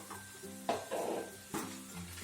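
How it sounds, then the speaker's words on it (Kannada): Roasted beaten rice being stirred into a fenugreek (methi) mixture in a pan, giving soft scraping and rustling strokes with a couple of sharper spoon knocks, close and fairly quiet, with no voices. "ಅವಲಕ್ಕಿಯನ್ನು ಹಾಕಿ ಚೆನ್ನಾಗಿ ಮಿಕ್ಸ್ ಮಾಡಬೇಕು"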